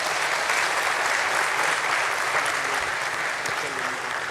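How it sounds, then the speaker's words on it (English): Dense, sustained applause from a large audience at a stock exchange listing ceremony for a retail chain, a steady wash of many hands clapping at even loudness throughout. "that definitely deserves a round of applause"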